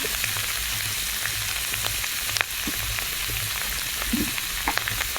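A steady, close hiss of cabbage frying in a pan, with a few faint stirring clicks and scrapes over the continuous sizzle and no one talking.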